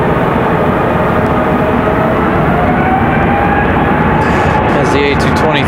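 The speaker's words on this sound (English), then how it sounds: "As the A220-300 gets a move on." An Airbus A220-300 jet departs at night from Raleigh Durham International Airport, a loud, steady broadband engine roar close by, with a voice speaking over it.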